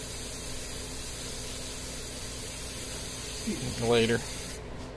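An airbrush sprays paint onto a Weird Science Wendell figure, producing a steady close hiss throughout, with a short spoken word partway through.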